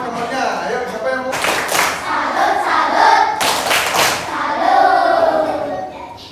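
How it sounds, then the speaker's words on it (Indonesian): Young children in a classroom break into applause for a classmate, a close burst of quick, uneven clapping that swells in two waves amid voices and chatter. "Tepuk tangan buat temannya."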